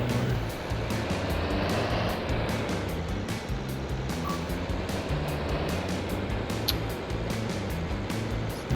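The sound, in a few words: tractor engine driving in video game Farming Simulator 22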